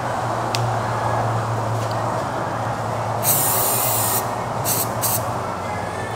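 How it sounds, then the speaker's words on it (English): Spray paint hisses onto a laser-cut sign in one longer burst followed by two short spritzes, each sharp and close, over a steady background hum. "I might give it a little spritz there."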